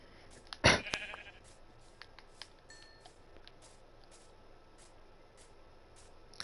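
A sheep in the game Minecraft gives one sharp bleat near the start, loud and close, followed by scattered faint clicks and small game sounds over a quiet background.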